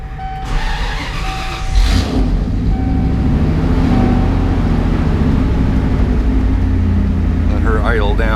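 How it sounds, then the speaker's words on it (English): A 1990 Ford F350 with a 7.3 IDI diesel engine cranks and starts, then settles into a loud, steady, rattling diesel idle close by, with a brief voice near the end. "Get her fired up, pull her outside."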